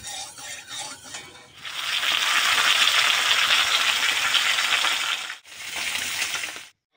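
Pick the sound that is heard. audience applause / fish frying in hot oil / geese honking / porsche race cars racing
fish frying in hot oil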